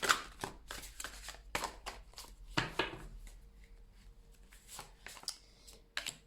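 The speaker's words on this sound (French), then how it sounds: "Allez, on prend les cartes du Dixit." Dixit cards being shuffled and handled, a run of quick close papery riffles and taps in irregular bursts, fairly quiet, with no talking.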